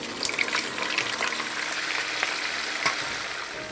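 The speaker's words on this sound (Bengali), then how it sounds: "পনিরগুলো আমি ভেজে নেবো। তেলটা আমার গরম হয়ে গেছে।" Paneer pieces fry in hot oil with a steady, dense sizzle and crackle throughout, close and fairly loud, with occasional sharper pops.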